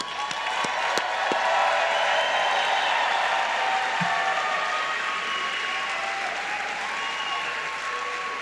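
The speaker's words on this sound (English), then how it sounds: "a round of applause to class of 2023, all of you" A large crowd at a dental school commencement ceremony applauds the graduating class of 2023, a sustained, full roar of clapping with some cheering, steady throughout with a few sharp claps near the start.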